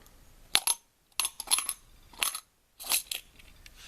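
Copper coins drop and clink into a container in several quick bursts separated by short pauses, close and bright, with no talking.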